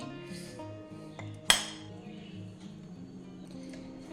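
Dishes and plates clink together as cooked ghugni is spooned onto a plate, with one sharp, bright clatter standing out among softer, scattered kitchen knocks.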